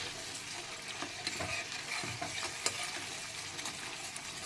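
Ginger and chili paste fries on a low flame, a faint, steady crackling sizzle broken by a few soft scraping stirs of a spatula against the pan.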